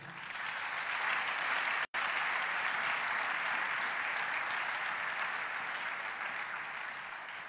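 A church congregation applauds in a dense, sustained burst of clapping that fills the room, cutting out for an instant before continuing evenly and easing slightly at the end.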